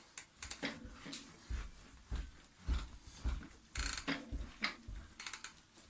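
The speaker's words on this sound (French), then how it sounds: "nettoyer, frotter toute la chaîne" A bicycle chain rubbed clean of leftover grease with a rag gives close, irregular bursts of scraping and ratcheting mechanical rattle, with short pauses between strokes and no voices.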